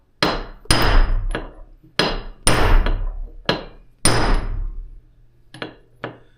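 A hammer strikes metal in a series of sharp, ringing taps, some in quick pairs, each decaying briefly before the next, close and loud, tapping seals into a Cummins PT fuel pump housing.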